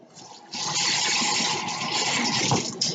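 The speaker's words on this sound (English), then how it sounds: "Let me rinse my hands off." Water from a kitchen tap starts with a sudden gush and runs steadily as hands are rinsed under it, close and fairly loud, with no talking.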